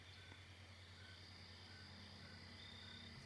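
Forest insects chirp faintly in the video game State of Decay, a steady, continuous high trilling drone with a low hum beneath, distant and quiet.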